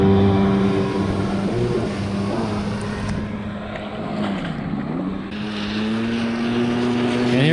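Yamaha 650SX jet ski fitted with an 800 engine conversion roars past at full throttle, a loud sustained whine that swells, dips in pitch as it passes and then climbs again, with no voices.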